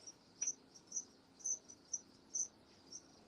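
Crickets in a screen chameleon cage give short high chirps in an irregular rhythm, about nine bursts, faint and close in a quiet room.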